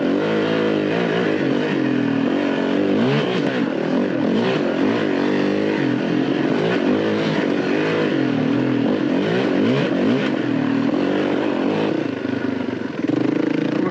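Motorcycle engine revving and pulling hard on an afternoon ride with new grips, loud and continuous throughout, pitch rising and falling with each throttle change, close to the rider.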